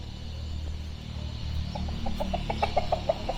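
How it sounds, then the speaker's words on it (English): A large rooster clucks nearby in a rural Thai village. A rapid run of rhythmic clucks builds in the second half over steady outdoor background noise, with no speech. "He's a big rooster."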